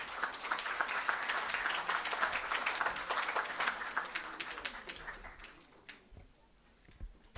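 A crowd at a moot court prize distribution ceremony applauds with dense, steady clapping that thins out toward the end, leaving a few scattered claps.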